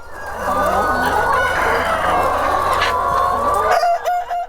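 A large flock of chickens on an animal-welfare certified farm of 6,500 birds, with perches and a floor of soil, rice husks and sawdust, clucks and crows loudly and without a break, with layered overlapping calls close by.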